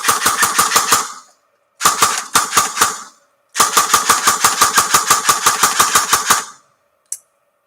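Custom-built airsoft gun firing on full auto in three loud, rapid bursts of sharp mechanical clacks, the last and longest burst running about three seconds, followed by a faint click.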